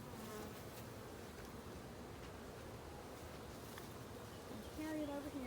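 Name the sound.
honey bees buzzing around a hive during honey harvest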